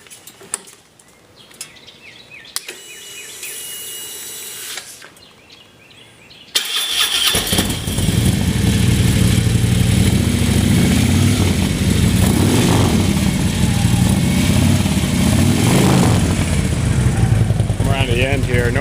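A 2011 Harley-Davidson Street Glide with a Fuel Moto Jackpot exhaust and Woods 555 cams cranks over and starts, then settles into a loud, steady, rumbling idle close by after some quieter handling noise.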